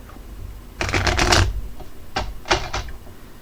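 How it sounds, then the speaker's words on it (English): Deck of tarot cards being shuffled up close, a long crackling riffle followed by two or three shorter riffling bursts, with no talking. "let me shuffle up these cards real quick."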